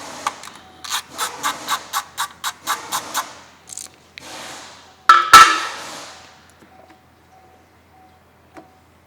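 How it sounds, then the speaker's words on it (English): A 17 mm wrench ratchets in a quick run of clicks to loosen the oil drain plug on a 2023 Honda HR-V, followed by a few louder clanks and scrapes, then near silence. "with the 17 millimeter, we're going to go ahead and remove the drain plug"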